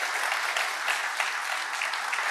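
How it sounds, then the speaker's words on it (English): A conference crowd applauds after a tech talk at Container Days Hamburg, producing a continuous, even rush of clapping from many hands, moderately distant and without speech. "This is your applause"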